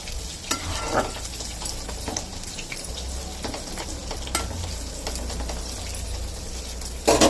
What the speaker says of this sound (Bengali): এই দেখুন জলটা দিয়ে দিচ্ছি। নেড়ে ছেড়ে দেবো একটু।